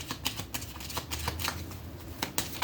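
Tarot cards shuffled and drawn, a run of soft papery riffles and light flicks with brief slaps, close and fairly quiet with no talk.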